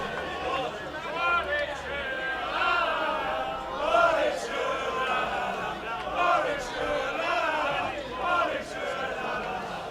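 Badminton crowd at the All England Championships semifinals and finals, a steady murmur of spectators with rising cheers and shouts swelling in waves, heard at a distance throughout.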